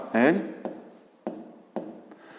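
A pen writes a math solution on paper, with short scratchy strokes in a few distinct bursts, close and fairly quiet, after a brief spoken word.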